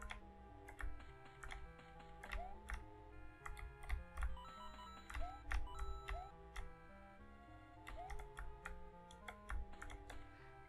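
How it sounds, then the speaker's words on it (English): Computer keyboard arrow keys pressed during a Super Mario Flash game: quick, irregular clicks and taps mixed with bright, steady game music. "we use the arrow keys"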